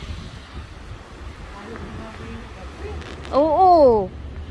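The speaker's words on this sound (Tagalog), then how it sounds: "Grabe yung hangin." Strong snowstorm wind in Regina, Saskatchewan, a steady low roaring rush outdoors, with a voice rising over it in a brief exclamation near the end.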